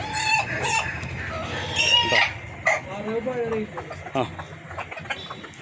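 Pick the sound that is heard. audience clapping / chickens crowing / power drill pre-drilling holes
chickens crowing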